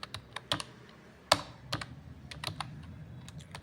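HTML code being typed into Notepad gives sparse, close keyboard clicks in irregular bursts, with one sharper key strike standing out, quiet and with no voice.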